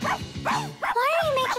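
A cartoon dog in a children's animated series gives a few close, yelping barks and a whimpering whine, with speech nearby.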